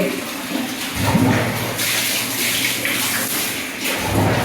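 Water is poured and splashes across a bathroom floor during washing, a continuous loud rushing close by with small surges.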